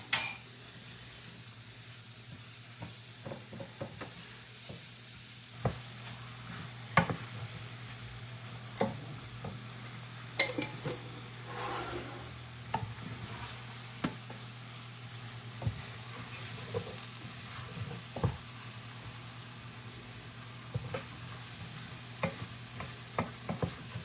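Flour being cooked and stirred in a pan for a scratch-made green bean casserole sauce: soft, quiet frying under irregular scrapes and clinks of a utensil against the pan, spread over about twenty seconds, with no talking.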